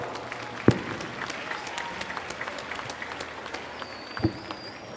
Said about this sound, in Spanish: Para la Banda de los Judíos, les pido a todos un fuerte aplauso